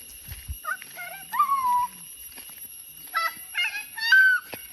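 A jungle fowl in a peafowl sanctuary gives several short honking, crowing calls in uneven bursts, moderately close, with a faint steady hum behind them and no voices over the calls.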